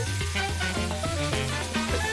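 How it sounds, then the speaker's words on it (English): Steady, loud sizzling of chicken frying in olive oil in a pan, continuous crackle and hiss with no voices. "Got a sizzle going on."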